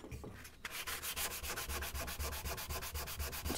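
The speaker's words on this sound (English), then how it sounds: "Sand them off." Wooden skewer ends being sanded flat after cutting, a close, steady rhythmic scrubbing of quick even strokes that runs without pause after a brief start.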